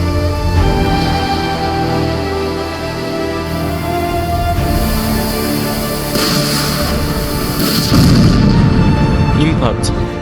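Missile explosions in a simulated naval battle as PL-15 missiles strike the hull of the destroyer USS Curtis Wilbur, a dense, loud rumbling barrage of booms and blasts that swells toward the end.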